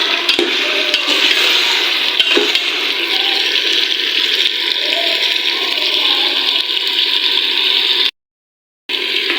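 Whole spices (bay leaf, black cardamom, cinnamon and cloves) frying in hot oil in a pot for degi aloo gosht, a steady loud sizzle that runs unbroken for several seconds before a brief cut.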